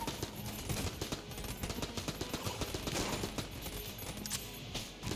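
Rapid automatic AK rifle fire in the video game Enter the Gungeon, dense bursts of close, punchy shots running almost nonstop, mixed with game effects and no talk.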